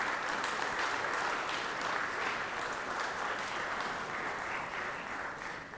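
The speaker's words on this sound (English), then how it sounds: "So y'all can clap for him." Senators applaud on the state Senate floor during a morning session, a dense, sustained clatter of many hands that holds steady at moderate level from start to finish.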